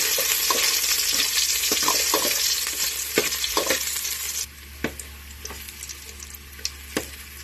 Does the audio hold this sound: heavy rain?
no